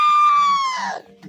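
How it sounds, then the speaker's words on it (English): A person screams loudly at close range during a playful War of Frame game session: a single sustained high-pitched cry lasting about a second that slides downward in pitch at the end. "Bro, you scream like a 5-year-old."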